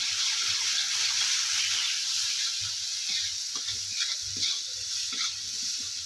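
Green chili chutney roasting in a pan for Maharashtrian pithla, a steady close hiss of frying with small pops and crackles scattered throughout, no voices.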